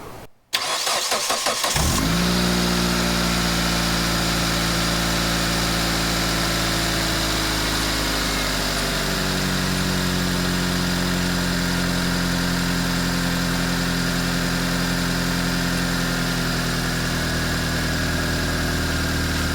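A Mitsubishi Lancer CE engine with a new fuel rail and injectors cranks briefly, catches and roars to life, then settles into a steady, loud idle with a constant low rumble.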